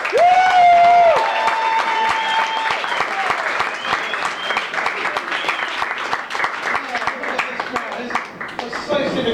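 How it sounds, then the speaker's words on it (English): Comedy club audience bursts into sustained applause and clapping with some cheering, loud and steady throughout, starting right after a voice over a PA. "Let's have a big round of applause to get this show started off right."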